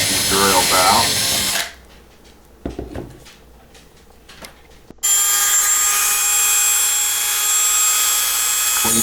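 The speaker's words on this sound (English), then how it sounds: "plus they got a little rivet that needs to be drilled out." A drill bit chews out a small rivet on a 1970 Dodge Dart Swinger model car in a steady, high, whining buzz. It follows a stretch of talk and a quieter pause with a few light clicks, and it runs close and constant.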